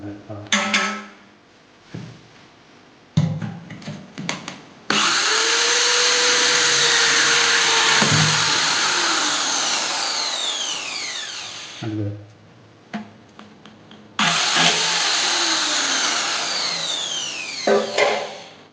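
Drill bit boring through a piece of aluminum, two long loud bursts of steady high grinding with a descending whine, separated by clanks and short knocks of handling between them.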